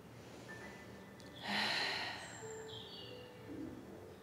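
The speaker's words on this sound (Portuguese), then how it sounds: "Agora faz uma respiração bem profunda e solta lá pela boca" A deep breath during a yoga class is let out through the mouth in one soft, airy exhale near the middle, heard alone in a quiet room with faint background tones.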